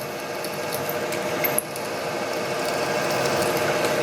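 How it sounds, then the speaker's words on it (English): A steady, close grinding whir of a drill boring into a metal fastener, continuous for a few seconds with one brief click partway through. "That's actually a pretty healthy sized drill for that fastener."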